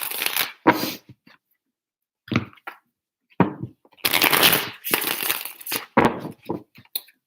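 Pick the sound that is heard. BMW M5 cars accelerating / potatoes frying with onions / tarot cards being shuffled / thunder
tarot cards being shuffled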